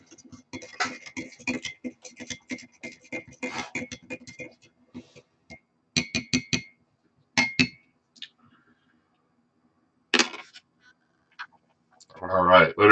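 Spoon clinking and scraping against the pouch or container while stirring an MRE cheese tortellini meal, in quick rhythmic bursts broken by short pauses, close and fairly loud, followed by a brief rustle.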